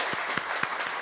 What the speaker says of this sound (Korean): 미리 함께 축하하며 박수하겠습니다